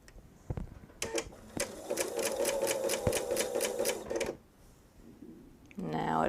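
A sewing machine stitches quilt fabric for a jelly roll quilt, a steady fast needle rhythm running for a few seconds, close and moderately loud, then stopping before a short tonal sound at the end.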